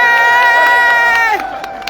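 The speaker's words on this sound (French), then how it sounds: "Est-ce qu'on peut applaudir pour ça?" A crowd at a live evening event in Paris cheers and shouts loudly and close by in one sustained burst of voices, which breaks off sharply partway through and leaves a few scattered calls.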